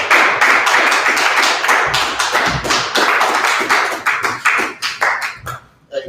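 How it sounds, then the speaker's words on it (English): Loud, close audience applause at a history class gathering: dense, rapid clapping that fades and swells in waves, with a few louder individual claps and a brief dip near the end. "A nice round of applause, man."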